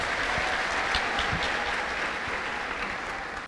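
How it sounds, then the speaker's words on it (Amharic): A church congregation claps in a loud, continuous burst of applause that holds steady before tapering slightly; any ululation is lost in the clapping. "እልልታ ጨብጨባ ለጌታ አስቲ አምጡ"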